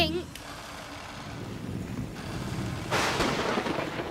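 Cartoon thunder from forked lightning during a downpour: a low rumble builds under rain-like hiss, then a louder crack breaks in near the end and rolls on, with a voice speaking briefly at the start.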